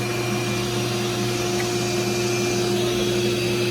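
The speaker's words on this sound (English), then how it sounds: "Go ahead and rip that down one more time." A 12-inch 5HP table saw rips a thin strip while boom dust extraction runs, producing a constant loud motor hum with steady tonal whine throughout, no speech.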